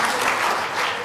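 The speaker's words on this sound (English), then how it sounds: "And now, a big applause for our friend Mark" Audience applause for a friend at a classroom-style language and careers event, a steady, dense wash of clapping filling the whole short moment without voices.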